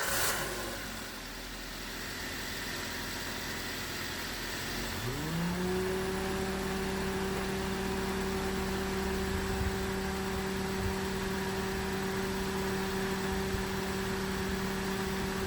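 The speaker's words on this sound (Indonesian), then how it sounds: "Kemudian kita tes untuk menghidupkan mesin. Pastikan motor fan dapat running dan tidak terjadi abnormal." A car engine starts and settles into a steady idle while the electric radiator fan motor runs, giving a continuous droning hum with a faint steady whine and no voices.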